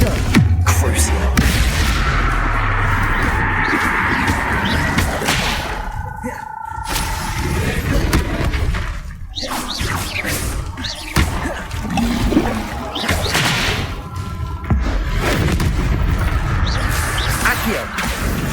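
Repeated booming spell blasts in Hogwarts Legacy combat, a dense run of thumps and splashy bursts filling the stretch with loud rolling impacts, talk running over them throughout.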